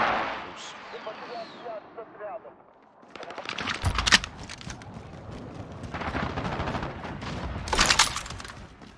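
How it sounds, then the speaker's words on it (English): Airstrike explosions and rattling gunfire in Call of Duty Modern Warfare multiplayer, a quieter opening giving way to heavy blasts and chaotic automatic fire, with a voice speaking amid the battle noise. "Allied precision airstrike incoming"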